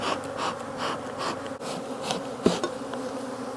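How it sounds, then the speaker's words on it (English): Honey bees swarm around an open production beehive during queen replacement with queen cells, producing a steady, close, droning buzz that holds throughout with slight pulsing swells and no voices. "believe it or not, we got a lot less bees."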